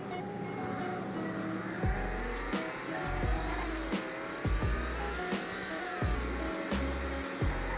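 A sub-30K supercar-performance car accelerating hard on a test drive, engine revs rising through repeated gear shifts with abrupt drops, loud and close.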